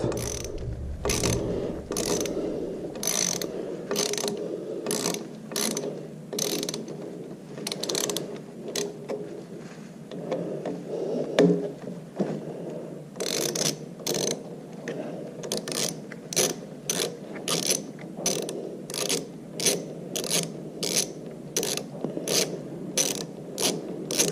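A ratchet wrench loosens two T27 Torx bolts while a Ciro3D phone holder is being installed. It makes close, loud bursts of rapid clicking with a brief lull in the middle, and no one speaks.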